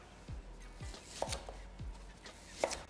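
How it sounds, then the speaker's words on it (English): A knife cuts red onion into wedges on a board, a few quiet, separate thuds and slicing taps spaced roughly half a second apart, close and faint. "some red onion, just cut into wedges as well"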